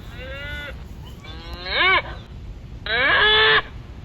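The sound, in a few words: cow mooing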